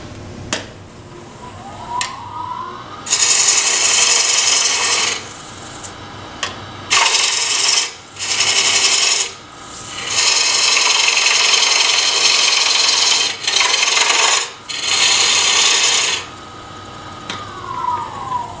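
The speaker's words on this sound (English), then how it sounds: "So I'm going to cut in, create that, and then pull my shape back out again." A bowl gouge cuts into a wooden bowl blank spinning on a lathe, giving loud bursts of hissing, scraping cuts that start and stop repeatedly over the lathe's steady motor hum.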